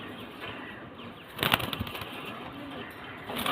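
Pigeons shuffle and briefly flap their wings inside a cage, a short burst of close fluttering against a low, muffled background with no clear cooing.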